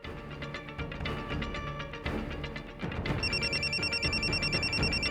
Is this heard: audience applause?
no